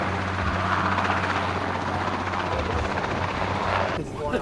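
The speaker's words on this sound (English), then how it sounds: "That was our first time using a helicopter for real in a shot." A real helicopter flies during the filming of a stunt shot, its rotor giving a loud, steady, chopping roar throughout before cutting off sharply near the end.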